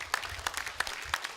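Sparse clapping from the audience at a secondary school debate grand final, a few distinct sharp claps landing irregularly at moderate distance, fairly quiet overall with no voices.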